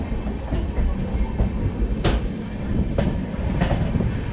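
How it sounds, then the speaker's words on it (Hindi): A train rolls past near Dwarka in Gujarat, a steady broadband rumble with faint rhythmic wheel clicks and a few sharper metallic accents, continuous and fairly close without any talk. "एक तो जहाँ पे ये ट्रेन जा रही है"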